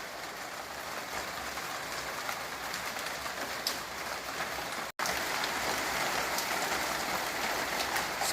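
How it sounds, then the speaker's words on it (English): Heavy rain pours steadily in Salvador, Bahia, a dense, even wash of close patter that continues unbroken with no voices, apart from a split-second dropout near the end. "it's suddenly started raining more intensely now"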